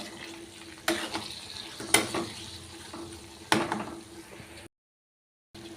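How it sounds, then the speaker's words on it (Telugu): Cluster beans frying with turmeric in a pan, a soft sizzle with a few sharp spatula scrapes and stirs close by, ending in a brief silence. "ఇలా కొద్దిగా పసుపు వేసుకొని ఇదంతా కూడా ఇలా చక్కగా ఇలా ఫ్రై చేసుకుందాం"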